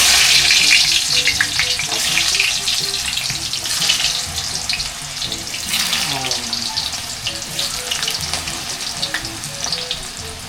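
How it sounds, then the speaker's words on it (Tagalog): Sliced sweet potato fries in hot cooking oil for a street-style snack, a loud, steady crackling sizzle filling the clip while faint voices talk in the background. "At ipiprito na po natin itong kamote."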